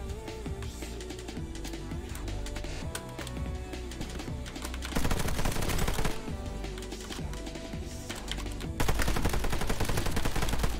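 Fast, loud rattling bursts from a video game gun fed by a 100-round drum magazine, firing in sustained volleys over busy background game sound and music.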